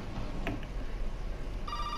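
In Resident Evil 7, a telephone rings in a brief electronic trill near the end, after a few faint clicks over a low, murky game ambience.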